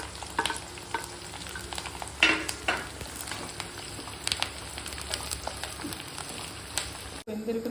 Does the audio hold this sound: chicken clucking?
no